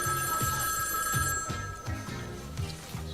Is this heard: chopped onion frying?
no